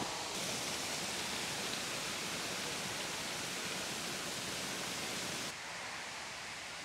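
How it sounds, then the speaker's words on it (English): Water from a garden fountain at Forde Abbey Gardens, blown by the wind, splashes and hisses in a loud continuous wash that drops abruptly in level near the end. "Water fountain drops on my head."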